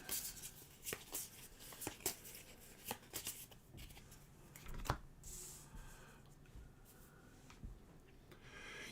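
Playing cards are shuffled during the Spire's End Hildegard tabletop game, with soft rubbing, riffling and tapping on a table, quiet and close, plus a few sharper knocks.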